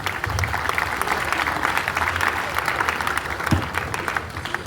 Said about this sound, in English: Okay, let's clap for him.